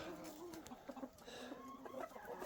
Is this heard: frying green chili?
no